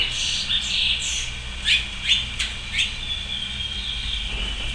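A coleiro, the double-collared seedeater, sings short bright whistled phrases, about five quick chirping notes in a row, fairly close over a low steady background hum.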